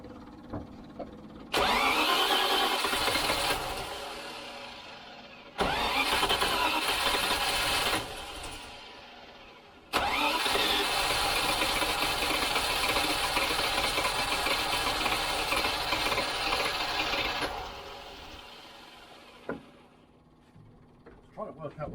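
A Range Rover engine is cranked over by the starter several times in long grinding bursts, with brief pauses between them, fairly loud and close, followed by quieter clicks and handling noises.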